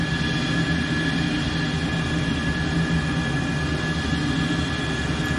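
Heatblur F-14 Tomcat jet engines roaring steadily at supersonic speed in a flight simulator, a loud continuous broadband rush with a constant high tonal whine and no talking.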